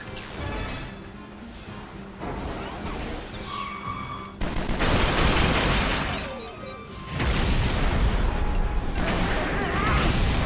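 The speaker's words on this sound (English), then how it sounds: "Airstrike." Video game airstrike explosions arrive as loud, dense rumbling blasts and crashes in overlapping waves, with whooshes between them. The barrage surges again after a short dip.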